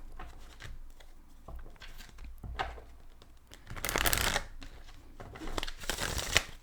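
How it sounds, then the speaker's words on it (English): Tarot cards being shuffled in bursts of quick riffling and soft flicking, fairly close and quiet, with a couple of louder rushes of cards near the end and no talking. "Now we're doing 3 shuffles."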